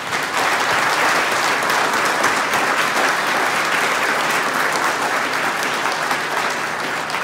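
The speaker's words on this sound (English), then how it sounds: "everybody join me please in congratulating with a round of applause" A school auditorium audience claps steadily for Teacher of the Year nominees, a dense, even wash of applause sustained at full strength for the whole stretch without talk on top.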